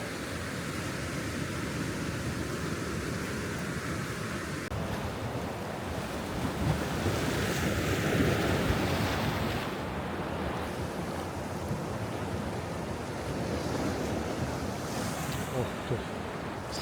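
Sea waves wash onto a Cretan shore at sunset, a steady broadband rush with swells rising and falling, heavy wind buffeting the microphone throughout and no one talking.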